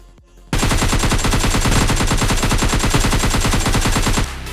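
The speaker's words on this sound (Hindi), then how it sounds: "जोकर, अगर दम है तो गन फाइट करके दिखा।" Rapid automatic gunfire in the video game PUBG Mobile Lite bursts in suddenly, loud and close. Evenly spaced shots rattle in one continuous string for nearly four seconds before cutting off.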